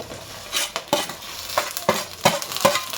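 Ivy gourd pieces stirred into hot frying oil with dried red chillies in a pan, giving repeated scraping stir strokes over a steady low sizzle, close and alone.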